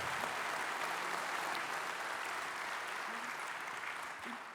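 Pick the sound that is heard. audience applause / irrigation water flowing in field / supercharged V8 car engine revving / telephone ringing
audience applause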